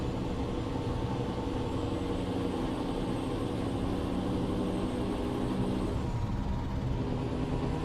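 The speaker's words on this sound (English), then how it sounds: "Love the sound of this truck." Truck engine in Euro Truck Simulator 2 idling and droning steadily at moderate level throughout, a continuous low rumble with faint hiss and no talk.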